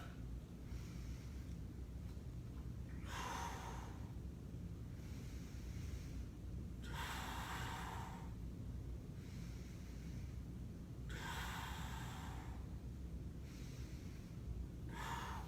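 Slow, deep breaths in and out during a stretch in a total body conditioning workout, several airy rushes repeating every few seconds, close and fairly soft over a constant low background hum, with no talking.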